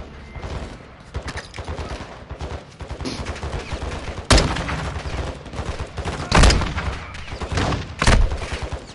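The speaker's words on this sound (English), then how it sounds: "They got some accuracy with those shots." Rapid gunfire in the Call of Duty Modern Warfare 2 campaign, sustained bursts of automatic fire with several heavy, sharp blasts standing out, close and loud amid battlefield noise.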